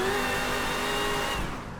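Several cars in a racing video game rev their engines together, producing a loud, continuous, dense engine roar that holds steady and then eases off slightly at the end.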